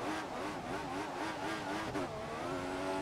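Race car engine in the F1 2014 video game, a McLaren during qualifying in China, holding a loud steady high-pitched whine with slight wavering pitch throughout, alone with no talk.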